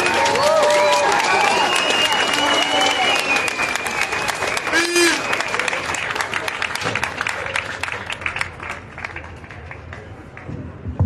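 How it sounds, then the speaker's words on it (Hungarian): A crowd applauds outdoors after a speech at a March 15 gathering on Liberty Bridge in Budapest. Dense, steady clapping runs throughout, thinning slightly toward the end, with brief whistles and voices over it. "még egyszer tapsoljuk meg"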